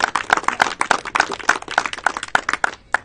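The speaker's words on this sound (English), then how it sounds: "A huge round of applause to both the teams" Clapping at a cricket presentation after a TAAG versus DRUK match, a small group of hands beating out sharp, close, uneven claps in a quick, steady stream that stops abruptly just before the end.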